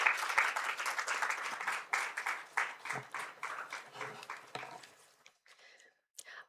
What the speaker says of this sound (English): May I request a warm round of applause?